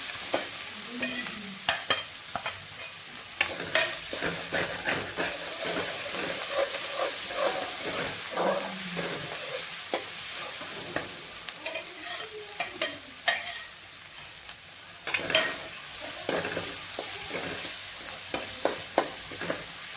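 Masala roasting in oil in a pan for a home-cooked vegetable curry, with coconut already in the mix: a steady sizzle and hiss runs throughout under frequent scraping stirs from a spoon, close and fairly loud, with no talking.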